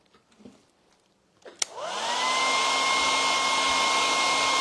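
A hair dryer switches on with a sharp click and settles into a loud, steady blowing whine, drying paint on a stained stencilled board; faint handling noises come before it.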